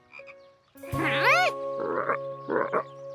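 Cartoon frogs let out a few deep, throaty croaks one after another, loud and close, over a light musical backing.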